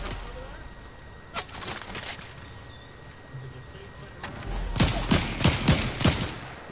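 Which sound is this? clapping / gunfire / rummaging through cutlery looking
gunfire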